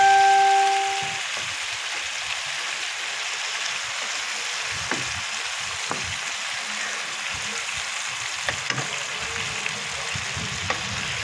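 Pork intestines sauté in hot oil for an adobo dish, giving a steady, close sizzle and fry hiss that runs throughout with occasional small pops and stirring clicks.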